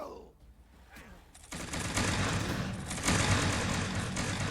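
Musket volley fire in the Mount & Blade Bannerlord video game, a sudden burst of overlapping gunshots that rolls into sustained crackling fire with a second swell, loud and dense.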